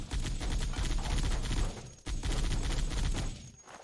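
Rapid gunfire from a damaged turret in a Halo 3 Lego Harry Potter mod, a dense, continuous burst of shots that breaks off briefly and resumes before trailing away.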